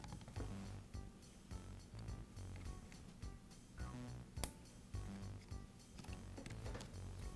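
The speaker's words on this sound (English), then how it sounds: "I'll install the switch back into the housing along with the spring." Faint, close clicks, small plastic rattles and metallic handling noises as a switch and spring are fitted into a Makita plunge router housing, in irregular short bursts.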